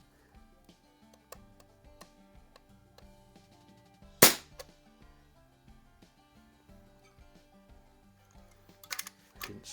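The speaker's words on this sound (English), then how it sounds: "but first let's shoot a couple of pellets" A Crosman model 73 CO2 lever-action pellet gun fires a single sharp crack at targets on a pellet trap, with a second, softer burst of shots later and faint clicking handling sounds between.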